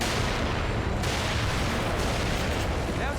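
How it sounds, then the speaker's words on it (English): Grenades go off in The Evil Within, a few sharp blasts with a sudden burst near one second over sustained loud rumbling and crackle, close by. "So we're just gonna yeet 3 of these grenades here."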